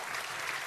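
Studio audience applause on the Polish game show Koło Fortuny, a steady dense burst of clapping filling the moment.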